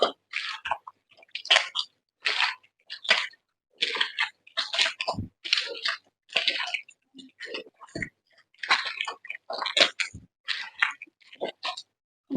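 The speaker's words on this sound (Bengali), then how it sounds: "এরপর অল্প অল্প জল দিয়ে ব্যাটারটাকে আর একটু খুব ভালো করে মেখে নেব।" Hands kneading a palm fruit fritter batter with small splashes of water, giving wet squelching and sticky slaps in short, irregular bursts with quiet gaps between them.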